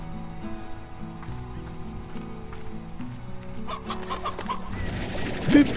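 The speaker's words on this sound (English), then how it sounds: "Chickens." Chickens cluck in the Slime Rancher video game, a steady scatter of soft fowl calls over low background game music that grows busier and louder toward the end.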